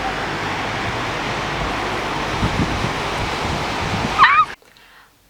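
Heavy rain from a nighttime thunderstorm pours down in a steady dense hiss with a low rumbling undertone, continuous for about four seconds before cutting abruptly to near silence.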